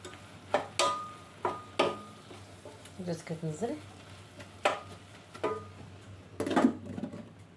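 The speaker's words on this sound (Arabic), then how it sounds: "ها هي البصله ديالي تطيب، نحركها." Chopped onion cooks in a pan on a home stove while a spoon stirs it: sharp intermittent clinks and scrapes of the utensil against the pan over a soft, steady sizzle.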